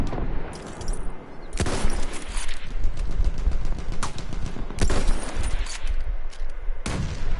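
Battlefield 1 gunfire crackles in sustained close bursts, with heavy volleys at several moments over a constant din of distant battle.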